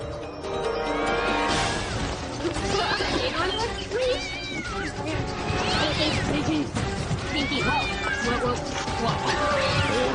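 An angry male domestic shorthair cat yowling and growling, loud drawn-out wails rising and falling continuously with harsh noisy bursts, recorded close.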